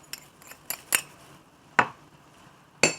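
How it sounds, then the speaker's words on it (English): Brown sugar mixed in a bowl, with scattered sharp clinks of a spoon striking the bowl's rim at irregular intervals over faint background noise, close up and without speech. "Aunty would like to mix this sugar, the brown sugar"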